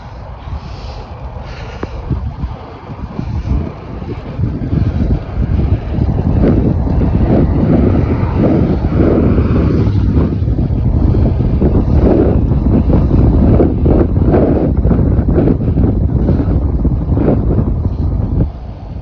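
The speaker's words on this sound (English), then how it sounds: "Still some serious winds, especially going, I think the wind is blowing south" Strong crosswind buffets the microphone during a bike ride, a loud, steady roaring rumble that builds after a few seconds and stays dense and continuous throughout, with no one speaking.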